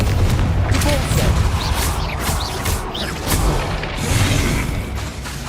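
Hogwarts Legacy combat, with the Repulsor spell among others, gives a dense, loud run of booming bursts and crashing impacts. Swooshing sweeps come over heavy low rumble without a break.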